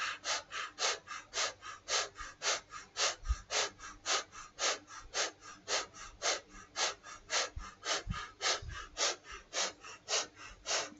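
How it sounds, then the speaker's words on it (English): Breath of fire yoga breathing: rapid, rhythmic, forceful nasal exhales pumping at about three per second, close and steady throughout with no talking. "Again, breath of fire."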